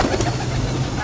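Kamagar pigeons coo softly in a low, throaty murmur, close by, over a steady background hum.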